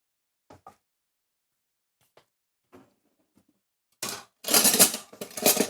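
Kitchen utensils clatter loudly in a home kitchen as tongs and cookie scoops are rummaged through during chocolate chip cookie baking, a burst of bright metallic rattling near the end after a few faint isolated clinks.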